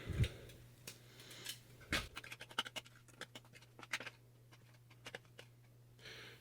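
An MRE cookie is crumbled by hand into a pouch of food, giving a quiet run of dry, crisp crackles and scratchy snaps in irregular bursts, close up and faint.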